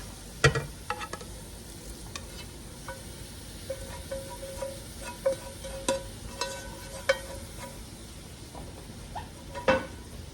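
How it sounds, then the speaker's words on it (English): Pasta and meat sauce being tossed and stirred together in a pot for a white sausage pasta, soft scattered clinks and light sizzling stirs coming in irregular bursts over a quiet background. "So I'm putting my pasta back in the pot here. I'm gonna add the meat sauce mixture."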